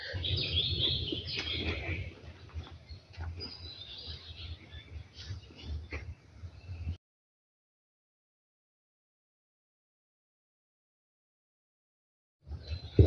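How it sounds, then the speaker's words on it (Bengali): Assorted wild birds chirp and call in Jaldapara forest in the Dooars, a busy overlapping chorus for several seconds before the sound cuts to silence, with a brief return of the calls at the very end. "বিভিন্ন রকম পাখি ডাকছে।"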